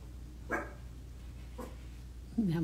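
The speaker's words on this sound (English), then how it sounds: "Now my dog's barking because of the wind." A small dog barks indoors on a windy day, a few sharp barks spaced apart followed by a higher whining yelp, set against a low steady hum of wind and room noise.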